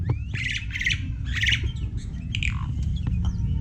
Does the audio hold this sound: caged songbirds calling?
yes